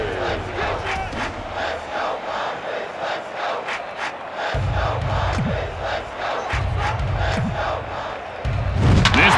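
A packed baseball stadium crowd roars continuously in MLB Slugfest 2004 on GameCube, a dense sustained cheer with rhythmic thumping surges that swell louder toward the end, with no talking.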